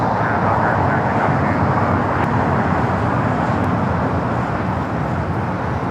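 An airliner at LAX moves past, a loud, steady roar of jet engines that holds evenly throughout.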